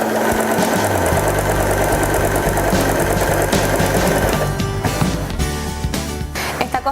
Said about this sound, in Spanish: Bajo la palanca del prensatelas para empezar a coser.